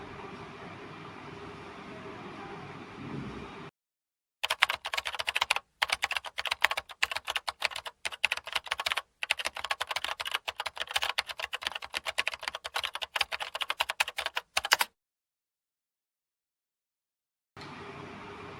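Rapid typing on a computer keyboard, dense clicking keystrokes in bursts separated by short silent gaps, fairly close and faint, with no voice over it.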